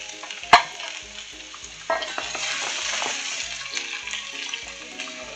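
Mixed colored peppers and onion frying in coconut oil in a pan, a sharp clatter as they go in, then a continuous close sizzle with repeated stirring scrapes and light knocks, no talking.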